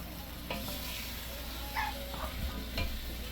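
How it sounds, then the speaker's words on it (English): A spoon stirs Jamaican brown stew chicken in a pot, a steady sizzling bed with a few soft scraping knocks, near and continuous with no talk. "Chad is basically going to stir this and mix it all in"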